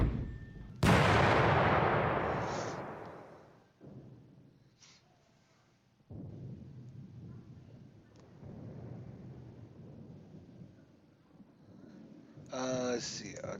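An artillery regiment fires in the Panzer Campaigns wargame: a heavy blast that rolls away into a long rumble, followed by more booms. Each one settles into a dull roar, and a short burst of tones comes near the end.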